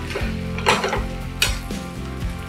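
Egg and leftover rice fry and sizzle in a pan, with a steady close hiss broken by two sharp scraping stirs of a utensil against the pan.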